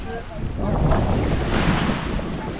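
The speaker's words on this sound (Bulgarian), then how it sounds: "И сега ще влезем малко в морето" Sea waves wash continuously onto the beach at Sveti Vlas on the Black Sea coast, with a steady, close surf rush and wind buffeting the microphone throughout.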